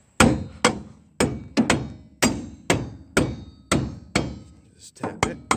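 A hammer knocks a brake drum loose on a project car, striking it about a dozen times in a steady rhythm. The sharp, loud metallic blows are close up, with no talk between them.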